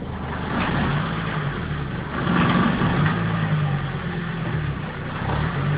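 A Volvo 850 AWD creeps forward during a viscous clutch test, its engine giving a steady mid-pitched hum with a slight rise in revs partway through, heard close and with no talk.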